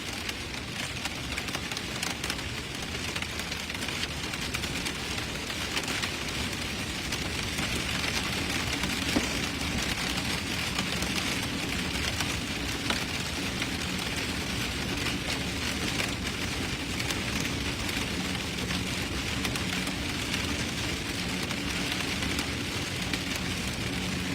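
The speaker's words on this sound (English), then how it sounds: "I don't think the hail's that bad yet" Steady hail and rain drum on the body and roof of a storm chaser's car in a New Mexico storm, a dense, continuous patter heard from inside, loud throughout with no talk.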